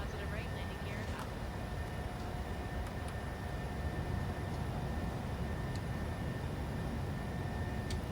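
Airliner climbing just after lift-off in Microsoft Flight Simulator 2020, a steady broadband engine roar with a faint whine, constant and fairly loud throughout, with people talking over it.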